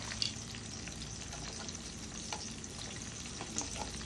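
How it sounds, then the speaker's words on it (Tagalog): Dried tamban fish (daing) fries in hot oil, a steady soft sizzle and crackle with occasional faint pops, close and even throughout. "luto ako ng daing"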